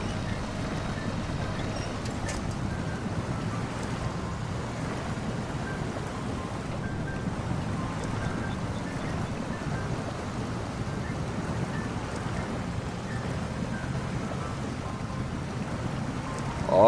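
An off-road scout truck ploughs through deep water in the SnowRunner video game, making a steady, dense wash of churning water and engine rumble that runs unbroken throughout, with no talking.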